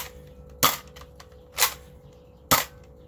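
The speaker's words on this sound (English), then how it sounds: "it sounds the same when you fire it." Three sharp snapping shots from a Nerf Scout MKII blaster, spaced about a second apart, loud and close with a faint steady hum between them.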